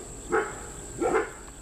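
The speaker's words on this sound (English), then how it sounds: "pardon my dogs in the background" Dogs barking indoors in the background, two short muffled barks about a second apart, moderately loud over quiet room tone with no talk.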